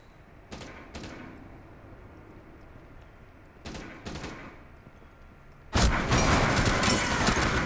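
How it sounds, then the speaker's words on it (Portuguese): Gunfire in Rainbow Six Siege, heard as a few short sharp bursts early on and then a loud sustained volley near the end, loud and close, with no talk over it. "Olha lá, você viu os tiros, né?"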